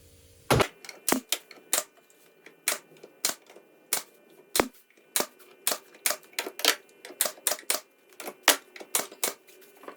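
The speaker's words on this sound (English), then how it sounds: "About to hit it with some brad nails" Sharp, percussive pops from a brad nailer driving brad nails into wooden trim on a shop miter station, about twenty close, loud shots fired in quick irregular bursts with short pauses between.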